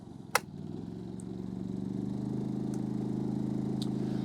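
A GT4000i LPG generator engine hums steadily, then its revs rise and hold at a louder, busier drone under added load after a sharp click near the start.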